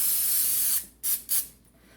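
A can of cooking spray coats the inside of a bread pan: a long, close, steady hiss, then two short, sharp spurts as the sides are covered, with no voices.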